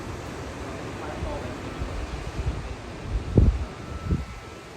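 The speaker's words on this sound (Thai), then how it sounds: "แต่ลมก็ยังแรงอยู่ ฝนตกอยู่" Strong wind in the aftermath of Hurricane Ian roars in a steady, blustery rush against the microphone, with rustling and a few sharper gust bursts near the end, under brief muffled voice sounds.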